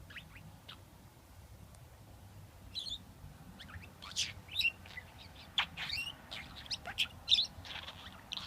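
Pet budgie giving scattered high chirps and short tweets, faint and close, in a quiet room with bursts growing busier toward the end.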